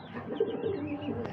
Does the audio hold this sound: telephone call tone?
no